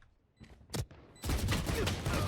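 In the shooter game Valorant, a couple of sharp pistol shots from a Sheriff ring out, followed by a sustained loud burst of heavy gunfire and impacts, close and dense.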